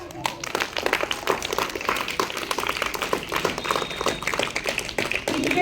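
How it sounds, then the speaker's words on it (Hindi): A school audience claps for a student skit by class 6 and 7 pupils, a dense, steady patter of many hands close by that continues for several seconds. "So एक बार जोरदार तालियां हो जाएं."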